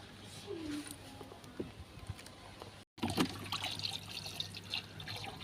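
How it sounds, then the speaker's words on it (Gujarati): Water runs into a half-filled bucket at home with a soft, continuous splashing trickle, faint and close, broken by a brief gap before the flow picks up again. "અડધી ભરાઈ ગઈ છે ડોલ"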